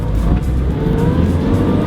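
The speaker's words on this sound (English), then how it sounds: "I am driving my brother's car right now. It has a Y7 in it." Honda EK sedan with a single-cam Y7 engine driving, a steady loud engine drone with rising harmonic tones as it pulls, continuous and close from inside the car.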